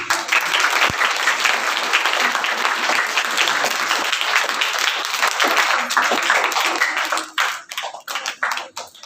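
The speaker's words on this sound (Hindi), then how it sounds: "ये सारी तालियां जो आपने मेरे लिए बजाई हैं, ये सारी यसू के लिए।" Loud, dense applause from a church congregation at a Sunday service, sustained for several seconds before breaking into a few scattered, separate claps as it dies down.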